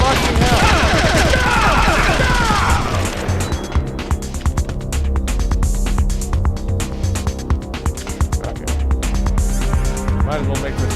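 FAMAS rifle gunfire in Metal Gear Solid: The Twin Snakes crackles in dense rapid bursts through the clip, loud over game sound, with someone talking at the start.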